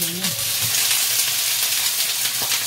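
Steady, loud sizzling and crackling of fish frying in a pan, close up, with a brief voice at the very start.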